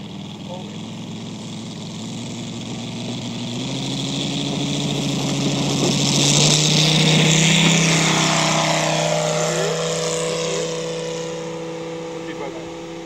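A Corsair F4U piston-engine aircraft in a video game runs up for a slow takeoff, its propeller drone swelling to a loud peak midway and then easing off, with people talking over it.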